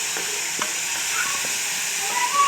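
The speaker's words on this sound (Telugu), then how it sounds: "ఇంకొంచెం 2 minutes ఫ్రై అవ్వాలి." Boiled black-eyed peas and onions sizzle and hiss in a hot pan, with soft scraping stirs at an irregular pace, close and steady throughout.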